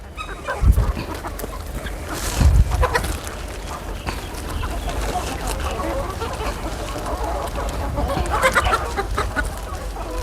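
Chickens cluck and murmur nearby amid farmyard bustle, with a few louder thumps early on and a voice speaking briefly in the background.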